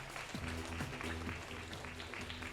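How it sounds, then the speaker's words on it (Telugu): A church congregation at the Karunagiri shrine feast in Suraram, Hyderabad, claps in thanksgiving, a faint, steady patter of many hands over a low tonal hum. "మనమందరం కూడా గట్టిగా చప్పట్లు కొడుతూ"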